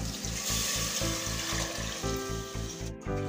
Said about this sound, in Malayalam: ഇനി ഇതിലേക്ക് നമുക്ക് അളന്ന് വെച്ചിരിക്കുന്ന വെള്ളം ഒഴിച്ചു കൊടുക്കാം.